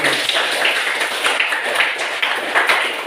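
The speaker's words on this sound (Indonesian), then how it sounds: "Oke, tepuk tangan untuk pertemuan ini" At the end of a maths lesson on Pythagoras, a class of students gives a lively round of applause, dense and steady throughout with clear individual claps.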